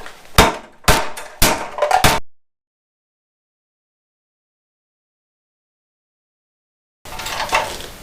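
Metal parts on a 1965 Honda Dream CA95 motorcycle clank and knock as the worn center stand is taken off, with four sharp close impacts in quick succession, then dead silence, then a burst of rattling handling noise.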